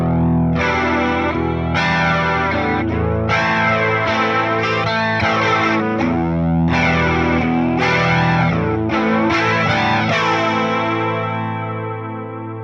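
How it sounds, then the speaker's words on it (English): Electric guitar through the JC Chorus effect on a Fender Tone Master Pro, summed to mono, rings out in lush shimmering chords with a slight gritty edge. Sustained and loud, played alone for about twelve seconds before fading slightly. "So here is the JC Chorus in mono."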